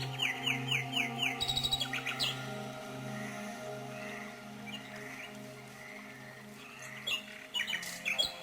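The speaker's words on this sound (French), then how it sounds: "Seul le chant des merles interrompt le silence qui s'installe." Blackbirds sing in a quiet wood, bright fluttering phrases and chirps in bursts at the start and near the end, over a faint steady background.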